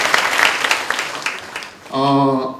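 Brief, loud applause from an audience at a Kumho Tire recruitment seminar session, about two seconds of clapping cut off by a voice.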